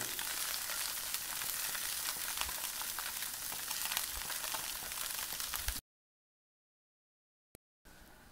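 Beef tenderloin dredged in seasoned flour frying in hot oil in a cast iron pan, a dense continuous sizzle for about six seconds, then sudden silence broken by a brief click before the sizzle resumes faintly.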